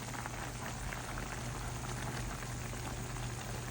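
Meat simmering in a pot over the fire in an outdoor dirty kitchen on a rainy day: a steady, soft bubbling hiss holds evenly throughout with no voices.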